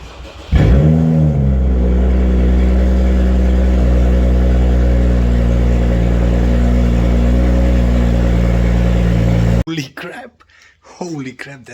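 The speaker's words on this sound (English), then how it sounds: "everyone wants to hear the car without the exhaust, just with the cat" A BMW 435i with the exhaust removed, running on the catalytic converter only, barks to life and holds a loud, raw, droning rev for several seconds close by, then cuts off as a person starts talking.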